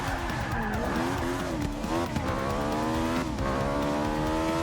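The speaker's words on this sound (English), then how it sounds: "Let's drift." Car tires squealing and skidding while drifting in the Forza 6 video game, a continuous wavering screech over engine drone, close and loud, no one speaking.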